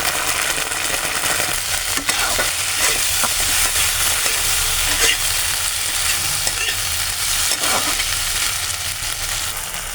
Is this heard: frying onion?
yes